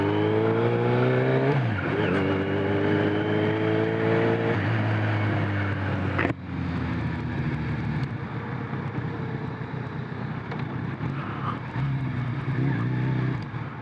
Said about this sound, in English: Oh, the old familiarity of the Japanese inline 4 motorcycle.